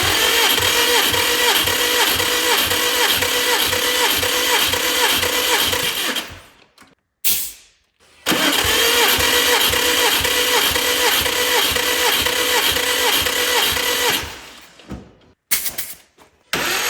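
A Subaru STI engine cranks over during a compression test, the starter churning steadily and loudly up close in two long runs of several seconds each, separated by a brief pause.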